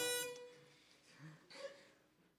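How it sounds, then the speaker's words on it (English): An air horn effect from a student-made video game gives one short, loud honking blast that fades quickly, followed by faint murmuring voices and a soft rustle. "and here's the air horn."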